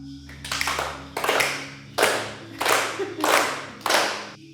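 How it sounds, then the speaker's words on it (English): A group claps hands together in rhythm during a cyclical dance session, six or so loud, evenly spaced bursts of clapping with brief gaps between them. "Clap with me now."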